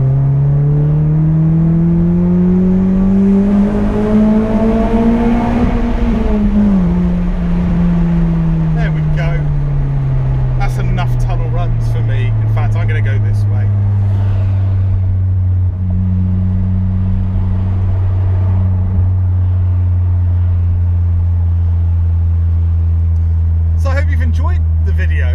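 A Honda Accord CL9 Type S engine drones steadily at close range through a tunnel, rising under acceleration then settling into a sustained lower hum with reverberant rumble for the whole stretch.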